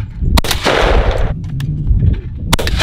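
Shotgun shots fired while deer hunting, three sharp loud blasts spaced across the stretch, the middle one with a long noisy tail, over steady outdoor background.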